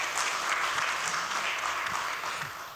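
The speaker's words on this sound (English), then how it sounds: "Big hand of applause for Sridhar." Audience applause at a business forum on exports, a dense steady clapping from a full room that holds for a few seconds and fades slightly toward the end.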